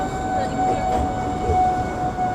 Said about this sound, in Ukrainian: Тут трохи шумна вулиця, ця Пілсудського трамваї тут тарахтять.